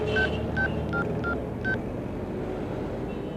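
A telephone number is dialed in a dubbed Telugu action movie: five short touch-tone beeps in quick, slightly uneven succession, loud and clear over a low background hum, with no talking.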